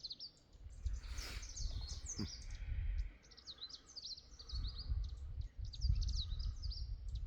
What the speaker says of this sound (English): I think it's peaceful just up here listening to the birds, the insects